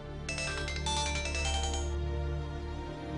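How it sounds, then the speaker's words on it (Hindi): A melodic phone ringtone plays a bright repeating chime pattern over a low background hum, then cuts off, leaving the hum. "ईमान का फोन?"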